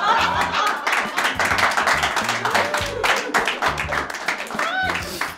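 Studio audience applause during a Turkish comedy show's New Year special: a dense, steady clatter of many hands lasting several seconds, mixed with voices and a low thumping beat underneath.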